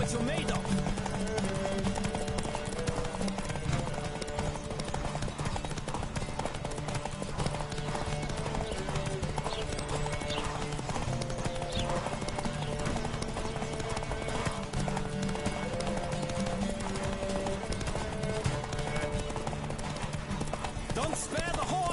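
A horse gallops in The Witcher III: Wild Hunt with rapid, continuous hoofbeats, a few whinnies and musical tones running underneath, and voices speaking over it throughout.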